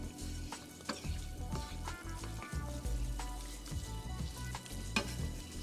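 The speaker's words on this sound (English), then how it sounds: "And they're sizzling away nicely." Ingredients fry in olive oil over high heat in a pan, a close steady sizzle with crackling pops and occasional stirring clatter, with no talking.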